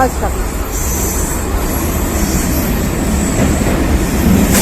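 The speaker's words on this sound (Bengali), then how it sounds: "ট্রেনে উঠে পড়েছি এবার ট্রেনে করে আমি যাচ্ছি এখন সাঁতরাগাছি" Passenger train heading to Santragachi, heard from on board as a loud, steady rolling rumble with a continuous wash of noise throughout; indistinct voices are faintly present underneath.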